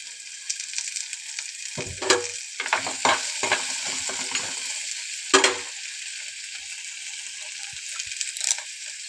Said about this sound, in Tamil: இதெல்லாம் நல்லா வதங்கட்டும் ஃப்ரெண்ட்ஸ்.